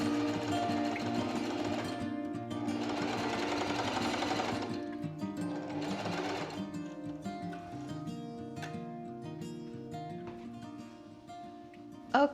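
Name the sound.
sewing machine basting stitch on fabric ruffles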